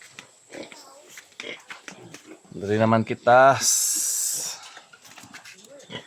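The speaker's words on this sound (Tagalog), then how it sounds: "Di mga baboy" Pigs grunt and oink with snuffling, wheezy breaths close by, in short bursts between a man's speech and a loud hiss near the end.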